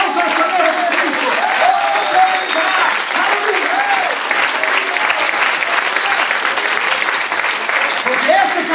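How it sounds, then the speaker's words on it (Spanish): Sustained applause from a church congregation during a sermon, steady clapping filling the whole stretch, with a few voices calling out beneath it. "Den un aplauso al Señor Jesucristo."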